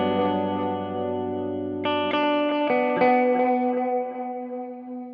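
Synth tones run through an Erica Synths Echolocator precision delay with its reverb engaged: sustained pitched notes with new attacks stacking into smeared, washy repeats that blur into a reverberant tail and decay gradually.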